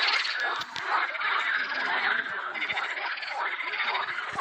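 Frogs croak in a dense, continuous chorus at Çubuk Karagöl lake, a busy layered trilling that carries through the whole stretch without a break.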